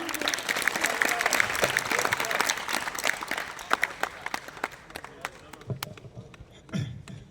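Audience applause fills a flag-hoisting program hall after a young student's speech, a dense patter of many hands that swells and then thins out, with voices briefly heard near the end.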